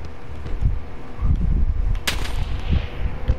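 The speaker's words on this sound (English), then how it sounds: "I'm getting shot by a sniper from somewhere." Sniper gunfire in Call of Duty: Warzone, with one sharp, loud crack standing out amid a dense layer of distant game combat and rumbling explosions.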